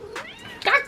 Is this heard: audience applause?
no